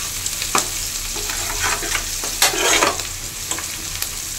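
Ginger garlic paste fries in hot oil in a pan, giving a steady close sizzle with brief scraping stirs and louder spits around the middle, with no talking.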